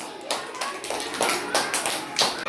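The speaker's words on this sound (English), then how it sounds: "All of you clap for them." A classroom of children claps for classmates who have just answered. The clapping is fairly close and comes in a few uneven bursts over a couple of seconds, with some sharp individual claps standing out.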